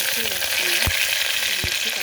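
Loud, continuous sizzling of onion and curry leaves frying in hot oil, with two sharp knocks of a utensil against the pan.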